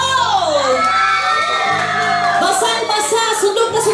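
A lively crowd at a party game event cheers and whoops loudly with excited shouting, high-pitched voices rising and falling close by and sustained throughout.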